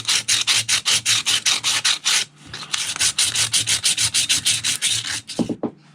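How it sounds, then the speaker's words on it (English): Sandpaper scrubs back and forth across a Detroit Diesel engine part being cleaned of old sealant, a loud rhythmic rasp of quick even strokes with a brief pause midway and a few knocks at the end. "let's get a little bit of sandpaper and clean this right up"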